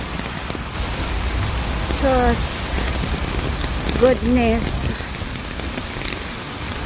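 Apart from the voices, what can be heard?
heavy rain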